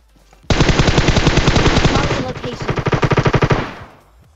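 Rapid automatic gunfire from a battle royale video game bursts in suddenly, a loud, dense stream of shots that slows into a distinctly spaced rattle before cutting off, with no voices over it.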